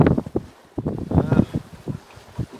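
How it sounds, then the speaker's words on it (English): A small sailboat beating upwind on Queen Charlotte Sound, New Zealand, with gusty wind buffeting the microphone in uneven bursts and faint water movement underneath, close and rough throughout. "I elected to sail upwind again to Mistletoe Bay."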